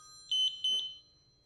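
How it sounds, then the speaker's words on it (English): A WIF-Pro control box sounds a two-beep confirmation after its startup self-test: two short, loud, high electronic beeps in quick succession, alone over a faint low hum. "2-beep confirmation."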